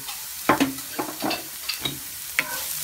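Pieces of mutton dropped into a hot frying pan of oil give soft crackling sizzles and stirring scrapes in short separate bursts, close and fairly quiet.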